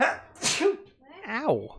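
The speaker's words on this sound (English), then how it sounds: "What is it with sneezing and streaming today?" A single sharp human sneeze bursts out close to the microphone, followed by a short spoken exclamation.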